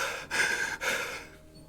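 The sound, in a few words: voice imitating a character's heavy breathing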